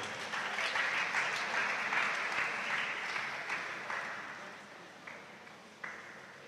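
Audience applause at a university inaugural lecture as a professor comes forward for a certificate; steady, dense clapping of a sizable crowd that fades slightly toward the end, with a few sharper claps standing out.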